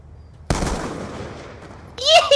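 In the video game Call of Duty: Black Ops 2, a single sharp gunshot cracks and rings out with a decaying tail, followed by a brief voice.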